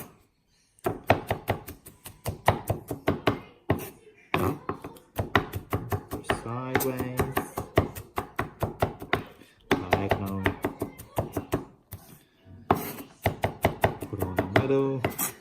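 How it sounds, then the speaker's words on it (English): A knife chops garlic on a cutting board in rapid rhythmic taps, delivered in several close, crisp bursts separated by short pauses. "what you can do is do a bit of chopping."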